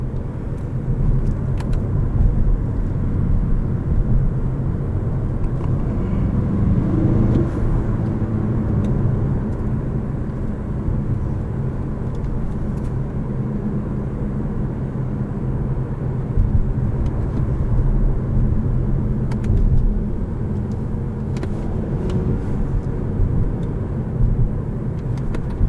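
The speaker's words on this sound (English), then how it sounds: "now we'll see what the suspension's like over these sets of bumps" A 2018 Mazda6 drives over a series of road bumps, heard from inside the cabin as a steady low road rumble with a few soft thumps as the suspension takes the bumps.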